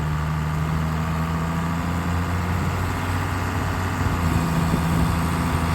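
The engine of a tracked tiny house chassis runs steadily on a gravel road, a continuous low rumbling drone with a constant hum and no pauses.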